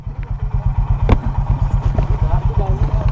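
A motorcycle engine idles close by, its steady rapid thumping pulses running throughout, with a brief clatter and a voice talking over it.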